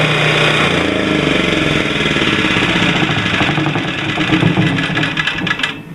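A gas generator engine runs loud and close with a rough, rapid chugging beat that sags and sputters toward the end as it is shut off.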